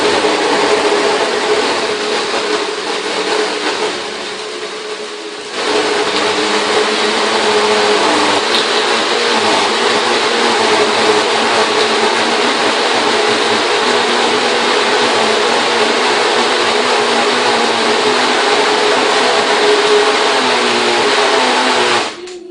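A blender whirs loudly and continuously while blending hemp milk with greens, a dense motor roar that dips briefly early on, then surges back and runs steadily at full power until it cuts off.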